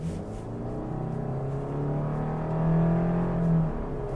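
Steady low engine drone and road hum from inside a 2018 Subaru Outback with a 2.5-liter engine and CVT transmission, rising slightly as it drives, heard alone without talk.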